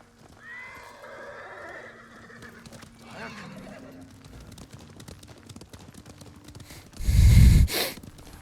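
A horse in Ghost of Tsushima clip-clops along at a riding pace, snorting and breathing before letting out a loud, close whinny near the end, with soft game music and faint voices underneath.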